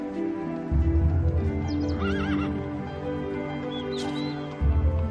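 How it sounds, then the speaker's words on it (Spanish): Horses at an equestrian centre near Oviedo, home to about 240 horses, neigh and whinny in several rising calls, with steady clip-clop of hooves underneath; the sounds are close and fairly loud, with no voices. "estamos rodeados ahora mismo de 240 caballos"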